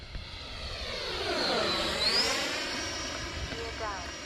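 An X-Fly Alpha RC model airplane flies past outdoors, its motor whine rising and falling in pitch in a steady, fairly loud pass with a light background wash.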